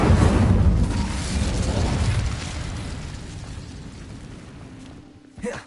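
The Incendio fire spell goes off in Hogwarts Legacy with a loud burst of flame, a roaring whoosh that fades out over several seconds, then ends in a brief small crackle.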